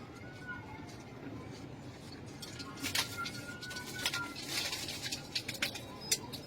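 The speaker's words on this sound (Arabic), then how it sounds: "ده فرد حمام عادي" A domestic pigeon coos softly at close range, low repeated murmurs under someone speaking, with occasional rustling and faint flapping.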